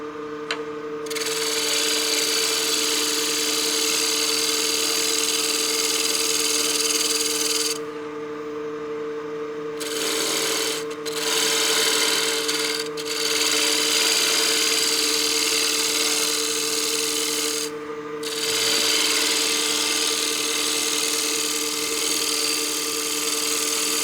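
A woodturning tool squares off a utility box spinning on the lathe, a loud continuous scraping rub over a steady motor hum, with a few brief pauses where the cut lifts away.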